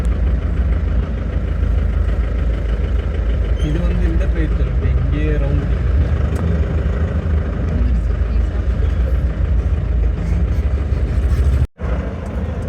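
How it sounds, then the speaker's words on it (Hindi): A diesel engine of the Darjeeling toy train idles at the railway station with a steady, loud, low rumble that runs throughout, while people talk nearby. "यही है टॉय ट्रेन।"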